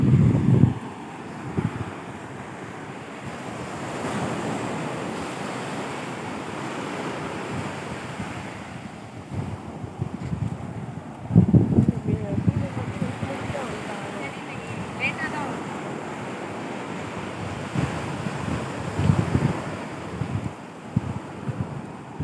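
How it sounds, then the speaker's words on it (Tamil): Ocean surf rolling onto a beach in southern Tamil Nadu, with fishing boats nearby; a steady wash of waves and wind noise with louder surges every few seconds, under someone talking. "அப்படியே அலையாக இருக்குது."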